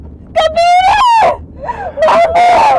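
A person lets out loud, drawn-out screams for help in several wailing bursts, with a short gap between them, in a tense dramatic scene.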